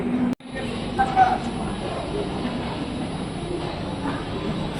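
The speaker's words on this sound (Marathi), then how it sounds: "फोन कर, ट्रेन निघाली आहे." A train pulls out of Dadar station at night, a steady moderate rumble of wheels on rails with a faint squeal, under soft background voices.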